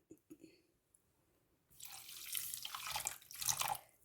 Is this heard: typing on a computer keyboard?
no